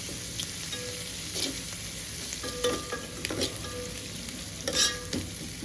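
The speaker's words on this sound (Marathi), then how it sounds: "हळदीच्या नंतर कोथिंबीर, चांगले ह्याला हलवून घेऊया, आपण एकत्र करून घेऊया." Onion poha with turmeric and coriander is stirred in a frying pan. A continuous sizzle runs under repeated scraping strokes of the spoon, with no voices.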